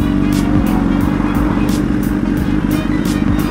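A sport bike is ridden on the road, its engine giving a loud, constant drone mixed with steady wind rush. The noise holds throughout without gear changes or pauses.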